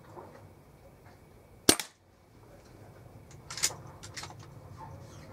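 A single sharp crack from a Weihrauch HW97 air rifle fitted with an SMK CP2, followed by a quiet pause and faint handling clicks.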